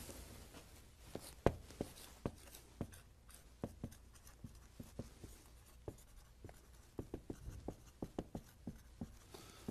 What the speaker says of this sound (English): I'd like you to write down the answers.